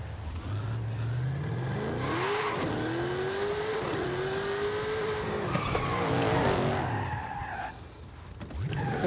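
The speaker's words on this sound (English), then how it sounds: "This Mustang sounds good though." A Ford Mustang on drag radials in Forza Horizon 5 revs hard and climbs through rising engine tones while its tires skid and squeal loudly, a continuous close racing roar that briefly dips near the end.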